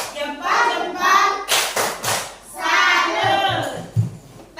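Children clap their hands in rhythm during a classroom clapping chant; a short run of sharp claps mixes with high young voices chanting close by.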